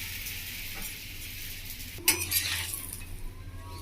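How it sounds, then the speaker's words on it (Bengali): A paratha placed back onto a hot tawa gives a sudden sizzle and scrape about midway. It then settles into a soft, steady frying hiss with light clinks, close by and without voices. "আমি তাওয়ার মধ্যে আর একবার পরোটাটা দিয়ে দিচ্ছি।"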